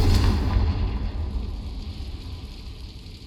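A Confringo fire spell in the Hogwarts Legacy video game explodes in one loud, close blast that rolls into a rumbling, crackling tail and fades over about three seconds.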